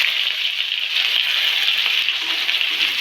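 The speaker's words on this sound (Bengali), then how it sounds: "পেঁয়াজটা একটু ভেজে নেব।" Onions frying in oil in a pan after cumin seeds, a dense, steady sizzle heard close and continuous throughout, with no talk.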